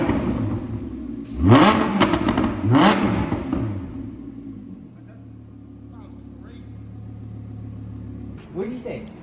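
Audi R8 V10 Plus fitted with a Quicksilver exhaust revs hard twice in quick succession, loud and close, then settles into a steady low idle rumble before a brief final blip.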